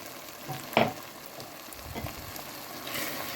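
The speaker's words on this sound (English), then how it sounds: "we're going to just stir this continuously for 1 minute, and that'll cook the spices" Salt, garam masala and chili powder sizzle gently in a pan for a leftover-turkey tikka masala while a spoon stirs them. One sharp scrape of the stirring stands out, and soft frying hiss continues around it.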